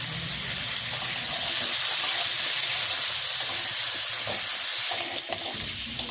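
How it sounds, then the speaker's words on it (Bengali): Potatoes frying in hot oil with salt and turmeric, giving a steady close-up sizzle and hiss with occasional stirring scrapes. No voices are heard. "আলুগুলো সুন্দর করে লাল লাল করে ভেজে নেব"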